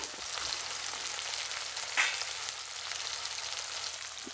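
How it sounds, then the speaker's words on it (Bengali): Chopped tomato, garlic and green chilli fry in a pan with a soft, even sizzle and a faint stir near the middle, heard alone at moderate level. "এইভাবে করে একটু নাড়াচাড়া করে ভালো করে ভেজে নিচ্ছি"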